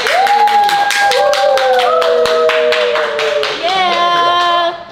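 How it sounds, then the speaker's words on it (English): A family gathered for a first Sunday dinner claps together, steady rhythmic hand claps continuing throughout, mixed with loud cheering and whooping voices close by. "Let's clap it up."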